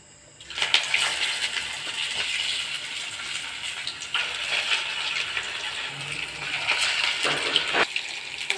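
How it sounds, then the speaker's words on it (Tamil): Chicken vada dropped into hot oil and frying, a steady close hiss and sizzle that swells right after it starts and carries on with faint crackles, no voices. "எண்ணெய் காஞ்சிடுச்சு. எண்ணெயில் போட்டுடலாம்."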